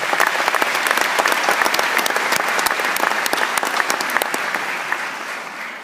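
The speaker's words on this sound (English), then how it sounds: "So let's go ahead and give them a round of applause." Law school commencement audience applauding, a dense, steady wash of many hands clapping throughout, loud and sustained, tapering slightly at the end.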